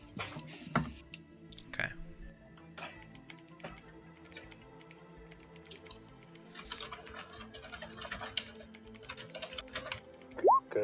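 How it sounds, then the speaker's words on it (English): Quick, irregular keystrokes tap on a computer keyboard in soft bursts during an online tabletop role-playing session, faint and close, with a brief spoken word near the start. "Oh, typing."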